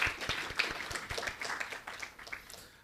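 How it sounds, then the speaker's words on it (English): An audience at a debate on the UN Sustainable Development Goals applauds a debate judge with scattered, fairly faint clapping that stays sparse and uneven for about three seconds. "Can you give a round of applause?"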